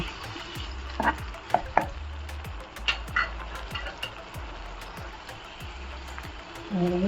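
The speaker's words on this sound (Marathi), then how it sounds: "आपण हे वाटण आहे ना तेलामध्ये छान असं आहे ना परतून घेऊया" Green masala paste sautéing in oil for prawn curry, with repeated scraping stirs of a spoon in the pan over a low sizzle, close and moderate, with a few sharp clinks and no clear talk.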